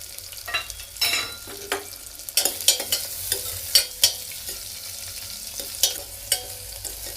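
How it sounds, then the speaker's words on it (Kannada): A large onion fries in oil for biryani, sizzling steadily while a spoon stirs and scrapes the pan in irregular close knocks, with no talking. "ಇದನ್ನು ಚೆನ್ನಾಗಿ ಬ್ರೌನ್ ಆಗೋವರೆಗೂ ಹುರ್ಕೋಬೇಕು."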